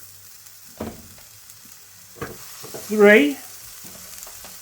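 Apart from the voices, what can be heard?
burgers sizzling on the Chefree griddle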